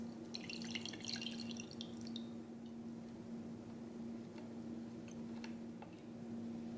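Turmeric shot liquid drips through a kitchen strainer. Faint, sparse drips and soft ticks sound over a steady low hum in a quiet room.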